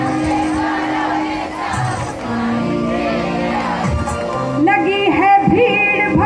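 Devotees at a Shyam sankirtan in Shastri Nagar shout a jaikara chant together, a dense crowd of voices rising and swelling over steady background music, growing louder near the end.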